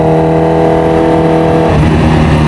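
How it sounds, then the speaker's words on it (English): Supercharged Kawasaki Ninja H2R with a straight-piped exhaust, revving very loud and close; a steady high idle drone shifts to a rougher, deeper roar near the end. "Let's listen to some sweet music here of this supercharger"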